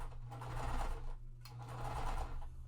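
A sewing machine runs steadily along quilt seams for a Wild West puzzle mystery quilt, a continuous close hum with a brief dip in the middle, fairly quiet and without speech.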